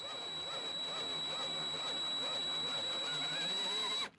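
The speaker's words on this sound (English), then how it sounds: "we're going to slowly drill that in, and that's going to cut my threads" Steady whirring of a drill cutting threads for a Heli-Coil insert in a Ford 6.0 Powerstroke valve cover area, running continuously at close range with a high whine, stopping abruptly at the end.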